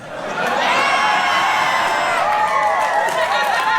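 A large crowd cheers and whoops loudly at a fursuit dance competition, the roar holding steady for several seconds with high shouts and voices mixed throughout.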